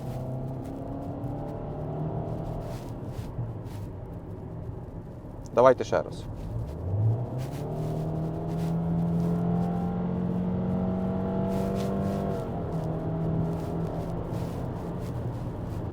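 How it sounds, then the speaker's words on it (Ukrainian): A warmed-up Subaru Legacy sedan with a naturally aspirated, all-wheel-drive engine revs and accelerates, its engine note rising steadily and holding a long climbing drone beneath cabin talk. "натискаємо, все, машина прогріта, починаємо газувати"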